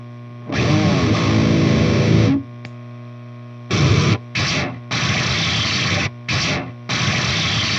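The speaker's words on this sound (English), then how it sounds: "that fart pedal sounds like a distortion on it" An electric guitar played through a harsh, buzzy, sputtering fart distortion pedal, a long note followed by several choppy bursts separated by silence.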